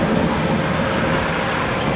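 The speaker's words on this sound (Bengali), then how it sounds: "আর্মিদের গাড়ি যাচ্ছে, আর্মিদের।" An army vehicle passes along a highway running beside a railway line, giving a steady, loud roadway rumble that holds evenly throughout with no voices.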